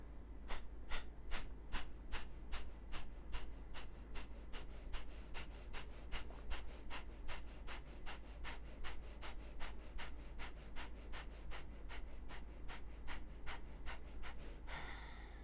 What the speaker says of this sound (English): Ready for our Kapalabhati.